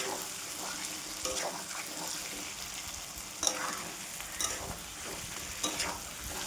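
Spice masala fries in a large amount of oil, giving a continuous soft sizzle broken by a few sharper scraping stirs and crackles.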